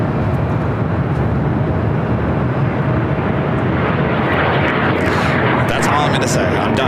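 A Southwest Airlines Boeing 737-700 at LAX makes a continuous, loud jet roar throughout, with faint crackling near the end.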